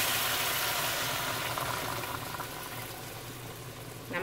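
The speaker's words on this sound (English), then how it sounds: "I'm going to add in some water with that." Water poured into a pot of birria chile puree for oxtail birria, a steady broad hissing, splashing pour that tapers gradually, with a brief clatter at the very end.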